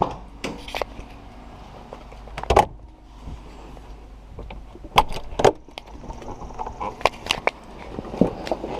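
The convertible top of a Mazda Miata is being lowered: close, scattered clicks, latch snaps and sharp knocks spread irregularly across several seconds, with soft rustling in between.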